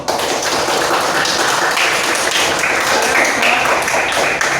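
A classroom of students claps together in a steady, even wash of applause that runs loud and unbroken throughout.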